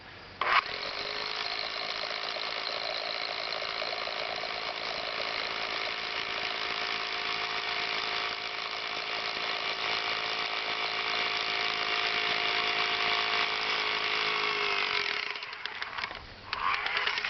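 A rotary hammer drills a hole through concrete, giving a loud, steady, grinding machine drone that holds for about fifteen seconds before cutting off abruptly near the end.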